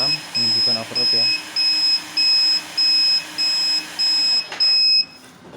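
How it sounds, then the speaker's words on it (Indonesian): A 5000 W pure sine power inverter, 48 V DC to 220 V AC, sounds its overload alarm as a string of about eight loud, evenly spaced electronic beeps, with a voice speaking briefly at the start. "Inverter ini overload, alarm menunjukkan overload ya."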